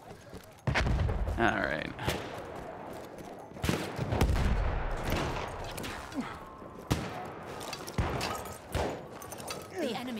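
A shotgun in the World War I shooter Battlefield 1 booms in several heavy, spaced blasts amid battlefield noise, with a player's voice speaking briefly between shots.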